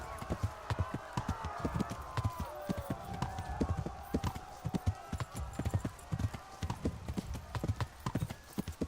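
Horse hooves clip-clop in a steady galloping rhythm in the medieval video game Kingdom Come: Deliverance, loud and close, with faint whinnying and game sounds layered over them.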